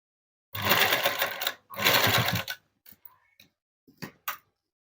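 A sewing machine stitches a dress in two close, loud bursts of fast whirring, each about a second long, followed by a few scattered light clicks and taps as the fabric is handled.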